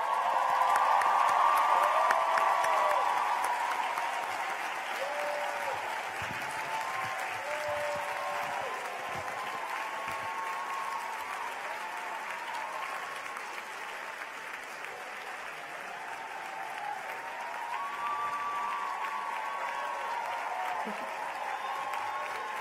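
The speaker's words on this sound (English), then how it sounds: "give a huge round of applause to all those who have supported you in your journey here" A large graduation ceremony audience gives sustained applause to the graduates' supporters, a broad, even wash of clapping from a big crowd with occasional cheers, steady and somewhat distant over its whole length.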